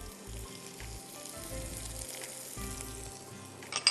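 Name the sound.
ginger piece frying in hot oil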